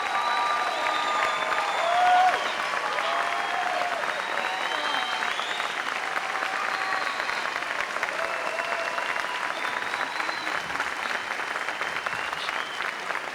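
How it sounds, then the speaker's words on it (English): Sustained applause from an audience at a 2006 award show, greeting two young women as they are honored; steady dense clapping with a slight swell near the start and scattered crowd voices underneath throughout. "Please give these 2 awesome young women a huge round of applause"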